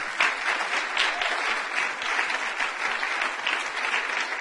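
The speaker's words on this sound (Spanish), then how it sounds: "Denle un fuerte aplauso al Señor si usted es de Él." A church congregation applauds the Lord during a Spanish-language sermon, with dense, even clapping from many hands that holds at a steady level throughout.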